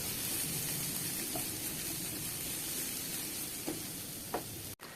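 Onions cooking for onion pasta sizzle and hiss steadily in a pan as they are stirred, with a couple of brief clinks near the end and no talk over it.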